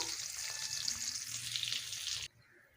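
Pieces of catla fish fry in oil for a cauliflower and potato fish curry, giving a close, steady hissing sizzle that cuts off abruptly near the end, leaving quiet.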